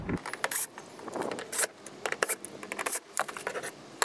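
Phillips screwdriver working the screws of the fuel pump cover under the back seat of a BMW E30 325e, giving close, irregular metallic scrapes, clicks and small rattles in short bursts, with no talking.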